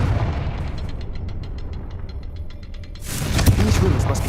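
A Confringo blasting spell in Hogwarts Legacy lands with a heavy burst, after a stretch of rhythmic magical ticking. The booming blast and its rumble fill the last second loudly.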